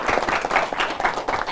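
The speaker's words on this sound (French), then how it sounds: "On applaudit très fort." A studio audience on a talk show applauds loudly, a dense burst of clapping that stays steady and close for a moment.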